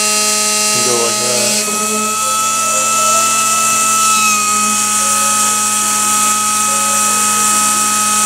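A mini magnetic window motor spins at around 13,000 RPM, giving a loud, steady high-pitched whine with a buzzing vibration, continuous and close throughout.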